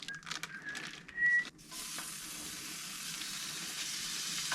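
Bacon sizzles and crackles steadily in a hot cast iron pan, with a brief louder clatter near the start before the frying settles into constant hiss.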